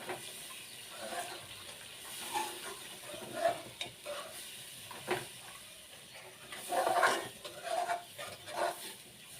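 Barfi mixture being stirred quickly in a pan on a gas stove, soft scraping and gentle sizzling in irregular strokes, fairly quiet and close.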